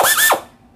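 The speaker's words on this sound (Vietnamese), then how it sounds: "Với đầu khoan 6 ly rưỡi như thế này, nó là thuộc về một cái khoan tua nhanh" A fast-speed drill fitted with a 6.5 mm bit bores into 4 mm steel plate, giving one brief, loud whirring burst whose pitch rises and falls before fading to quiet.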